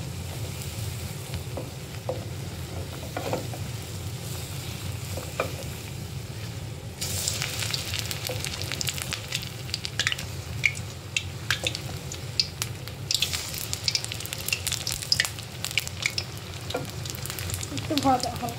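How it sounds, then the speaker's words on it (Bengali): Chops frying in hot oil, a continuous close sizzle with bubbling that grows louder and crackles more sharply partway through, with faint scattered clinks and no voices. "চপগুলো ভেজে নেব।"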